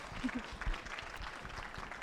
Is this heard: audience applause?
yes